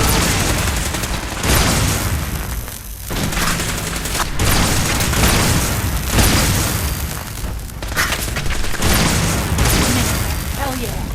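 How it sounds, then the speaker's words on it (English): Gunfire in the video game Fallout 4 comes as dense, loud volleys of booms and bursts that run almost nonstop, with speech mixed in among the shots. "Opening fire."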